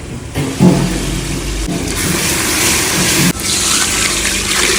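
Water pours steadily in a close, gushing stream into a pressure cooker of chicken, with a brief clunk near the start and a short break partway through.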